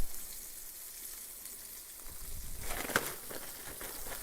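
Chicken pieces in hot oil in a skillet, a steady soft sizzle that swells into louder bubbling and crackle about halfway through, heard up close with no talking.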